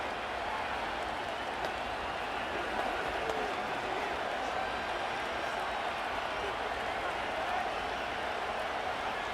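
Steady stadium crowd roar in an NFL video game, a dense continuous wash of cheering at constant level that runs under a commentator's voice.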